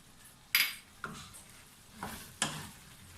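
Spices, green chillies and ground garam masala being stirred into red lobia curry in a pot, a few separate spoon scrapes and clinks over a faint low sizzle.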